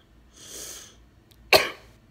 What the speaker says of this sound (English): I'm having my morning coughing fit, and every time I cough, it's pain.